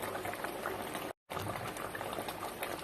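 Cashew-paste curry simmering in a pan for Bengali fish rasala, a steady close bubbling hiss that runs continuously with a brief cut partway through.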